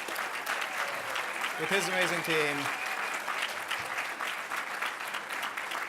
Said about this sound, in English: Bala, you have to give this guy a round of applause.